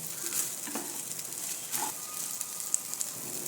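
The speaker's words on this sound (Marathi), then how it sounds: "एक तीन चार मिनटं परतायचे ते तांदूळ चांगले तुपामध्ये" Uncooked rice stirred and roasted in ghee for coconut rice, a steady low sizzle with soft scraping of grains against the pan, fairly quiet and without talk.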